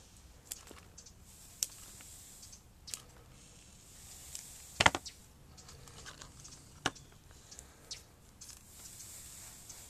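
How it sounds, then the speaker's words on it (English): Scissors snip circling roots off a very young Ficus philippinensis during repotting, giving a series of soft, close crunching cuts and sharp clicks spaced irregularly through a quiet room. "So, cut those circling roots off."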